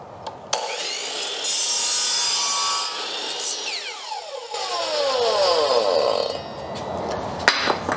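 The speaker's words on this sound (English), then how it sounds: "you don't have to have a chop saw like this to do the job" A used budget chop saw cutting wood for a DIY bike stand: the motor spins up with a loud whine, the blade bites through the board, then the pitch sweeps down as it winds down, with another start near the end.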